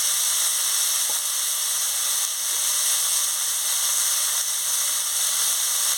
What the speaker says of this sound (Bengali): ভালো করে আনাজটাকে কষিয়ে নিচ্ছি